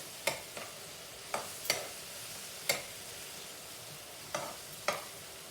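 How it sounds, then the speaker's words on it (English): Minced chicken frying in a pan, heard as a soft, steady sizzle with a few sharp scraping stirs at irregular intervals, quiet and close. "Let this fry down like for a minute also."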